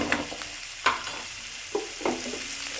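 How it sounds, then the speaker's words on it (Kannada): Food frying in a pan under a steady sizzle, with four or five sharp scraping stirs or clinks at irregular intervals, close and fairly loud, with no talking. "ಇದು ಸ್ವಲ್ಪ ಚೆನ್ನಾಗಿ ಫ್ರೈ ಆಗೋದಕ್ಕೆ ಒಂದು 5 ನಿಮಿಷ ಬಿಟ್ಬಿಡಿ"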